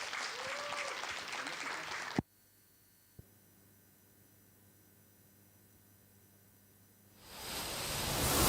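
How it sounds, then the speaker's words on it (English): An audience at an international mental health seminar applauds a Tapak Suci martial arts performance: dense, loud clapping that cuts off abruptly, then near silence with a single knock, and the clapping swells back up at the end. "Give applause to them."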